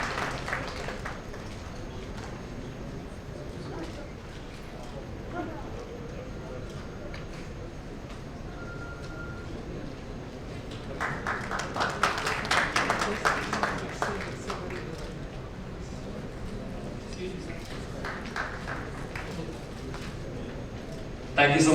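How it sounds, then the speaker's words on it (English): An audience at a national environmental summit breaks into applause partway through, a moderate burst of clapping lasting a few seconds that rises from a room murmur and fades back into it. "A big round of applause for him,"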